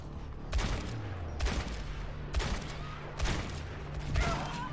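Gunfire in the Overwatch shooter game: five spaced, sharp shots ring out at roughly one-second intervals over a low, steady game background, with no talking.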